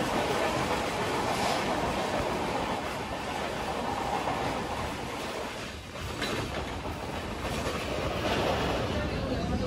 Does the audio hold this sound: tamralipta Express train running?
yes